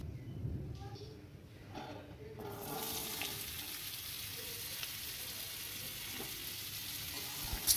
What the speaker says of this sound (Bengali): এই মিষ্টি কুমড়োটা ভেজে রাখছি,